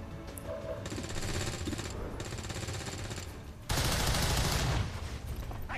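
Soldiers firing weapons in the video game XCOM 2, a sustained rapid rattling barrage that runs steadily for several seconds and then jumps to a louder, harsher burst near the end.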